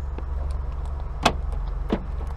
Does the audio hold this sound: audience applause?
no